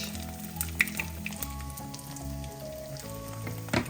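Iftar snacks deep frying in a pan of hot oil, giving a steady, bubbling sizzle with occasional pops and a clink, close and fairly quiet.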